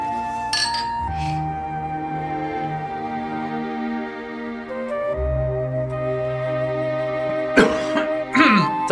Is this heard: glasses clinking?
yes